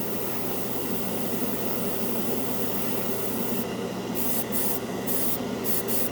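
Airbrush spraying cheap craft-store acrylic paint as a final coat on a scale model, a steady continuous hiss held throughout with a low hum underneath, close and even in level.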